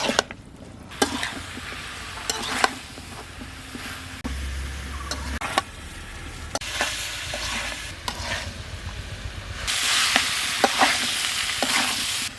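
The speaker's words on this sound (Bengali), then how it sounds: "এখন ভালো করে আবার মশলার সাথে কষিয়ে নেব কপি এবং আলু" Kohlrabi and potato pieces are sautéed with spices in a pan, a steady sizzle broken by repeated scraping stirs of a spatula, with a louder burst of frying near the end.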